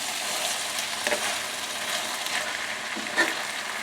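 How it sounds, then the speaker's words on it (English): Dirty rice being cooked as rice goes into a hot frying pan, giving a steady close sizzle and frying hiss with a few soft stirring scrapes, no talk. "Then we just put the rice in"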